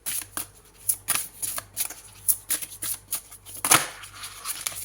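Oracle cards shuffled by hand at close range, a string of crisp riffling flutters and light slaps in uneven bursts, quiet and alone without speech.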